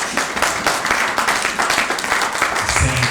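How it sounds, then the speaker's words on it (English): Brief burst of audience applause for Inner Light Center members at a Denver speaking event, close, busy clapping with a low rumble near the end. "give them a round of applause"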